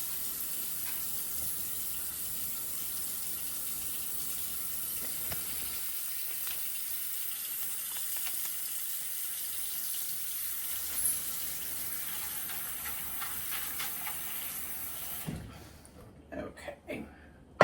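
Tap water runs in a steady stream into a sink to soak food for grilling, then shuts off near the end, followed by a few light clunks.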